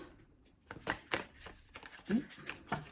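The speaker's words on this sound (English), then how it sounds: "If I can shuffle, that would be good." Tarot cards are shuffled by hand in a series of soft, irregular riffling and slapping bursts, close and quiet.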